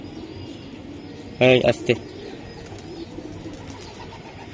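A racing pigeon being handled lets out a short burst of sharp calls and fluttering, close and loud, against a soft background of other pigeons cooing, with a brief voice nearby.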